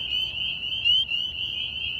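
Tiny frogs chirp at night in a dense, high-pitched, continuous trill nearby, with a few louder calls standing out over the steady chorus.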